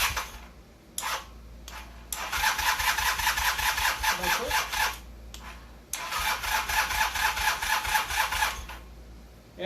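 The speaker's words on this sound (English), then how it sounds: "it's actually firing out of both cylinders" A Honda CM450 twin-cylinder motorcycle that sat for ten years cranks with a weak battery, catches, and runs in stretches, its rapid pulsing idle cutting out briefly and restarting, close and loud with no speech.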